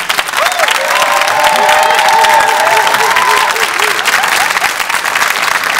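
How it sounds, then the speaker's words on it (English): Sustained applause from a large ceremony crowd honoring a choir director at a university founders day event, a dense even wash of clapping with faint voices and a held tone in the background. "Give him a round of applause, would you?"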